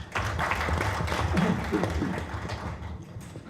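An audience at a political party forum applauds to welcome a speaker, a brief burst of clapping that fades out after a few seconds.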